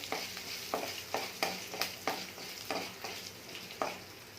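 Ginger and other mint chutney ingredients roast in a pan, with a soft sizzle beneath regular scraping strokes of a spatula stirring them, about two per second.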